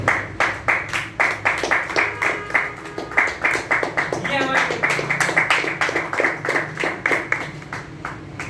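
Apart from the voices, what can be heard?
audience clapping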